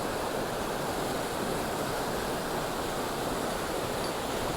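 A creek rushing over big boulders at the bottom of a steep hike, a loud, steady, broadband wash of water with no breaks and no voices.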